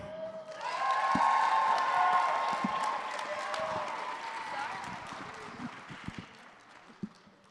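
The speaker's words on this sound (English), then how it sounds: "let's have a big round of applause for Gia Bat" Applause and some cheering from the audience at a community college student leadership summit as the next speaker comes up, swelling then fading to scattered claps and footsteps, with a voice over the crowd.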